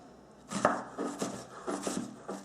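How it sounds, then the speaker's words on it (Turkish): A knife chops onion on a cutting board in a quick, irregular series of close, crisp strokes. "Şimdi soğanımızı da doğrayalım."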